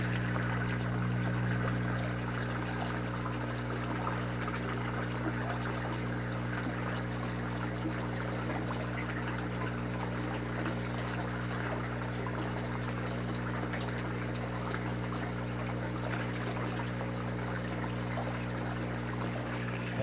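Water squirts and pours into an aquaponics flood and drain media bed, a steady trickling splash over a constant low pump hum, close and moderate in level, with no voices.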